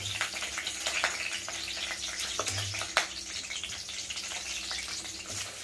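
Green chillies frying in a couple of spoons of oil for a coriander tomato pachadi, giving a soft, steady low sizzle with a few faint crackles and pops, close but quiet, with no talking.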